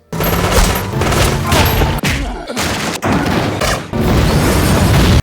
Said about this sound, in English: They shoot him as well and blow the place up.